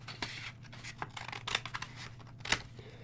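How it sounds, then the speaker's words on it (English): Scissors trimming a paper map, faint close snips and rustling scrapes of paper in short irregular bursts, with one sharper cut near the end. "I got my first cut in there, and I use my scissors just to trim it out there"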